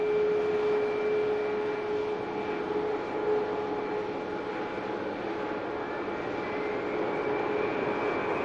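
A Brussels Airlines Airbus A320neo spools up its engines at Manchester Airport, a steady, moderately loud whine with sustained tones over a broad roar that holds for several seconds.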